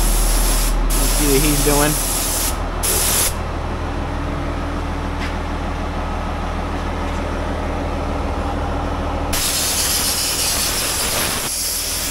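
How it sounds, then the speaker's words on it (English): A spray gun blasts dark gray WoolWax undercoating onto a Ford F150. Short hissing bursts are followed by a long, steady, close spray, and someone briefly speaks over it. "So we just got done doing some more spraying"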